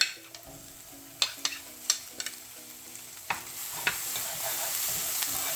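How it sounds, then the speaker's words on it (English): Garlic frying in a pan, a steady close sizzle with occasional stirring clicks and scrapes, gradually building in brightness over several seconds. "And then we're going to come in with the garlic."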